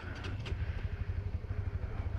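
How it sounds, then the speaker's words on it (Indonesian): A 2021 Honda CBR150R motorcycle engine idles just after starting up, a close, steady low rumble with fast even pulsing throughout. "Suara mesin"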